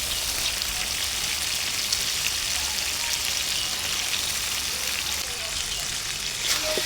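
Chicken pieces dropped into spices fried in oil hiss in the pan, a loud, dense, even sizzle like heavy rain that runs unbroken throughout.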